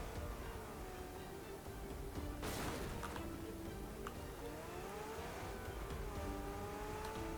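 A McLaren engine in PUBG revs and rises in pitch, its tone sweeping up and down as the car accelerates, heard steadily and fairly close over game background noise.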